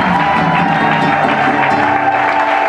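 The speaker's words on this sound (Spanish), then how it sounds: "Lectores y acólitos, demos un fuerte aplauso." Applause from a congregation at a church ordination ceremony for new readers and acolytes, a steady wash of clapping with some crowd noise that stops abruptly.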